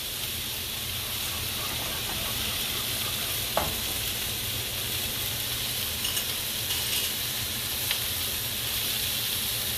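Grits with butter cooking in a pot, giving a steady soft sizzle and bubbling hiss that runs the whole time with occasional faint clicks of stirring, fairly quiet and close.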